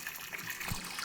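Water gushes from a hose into horse water troughs at a horse shelter pasture, a brief, faint, steady rushing stream with a small splash near the middle.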